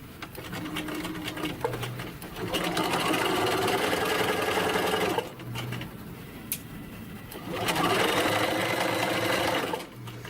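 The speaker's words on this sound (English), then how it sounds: "Start with a back stitch and stitch down the length of your piece at a 1/4 inch." A sewing machine runs a quarter-inch French seam on chiffon, starting with a back stitch; the steady whirring motor comes in two long close bursts separated by a brief pause.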